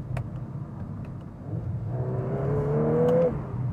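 Volkswagen Golf R accelerating hard on a winding country road, its engine note climbing steadily in pitch and growing louder over a few seconds, heard from inside the car with no talk.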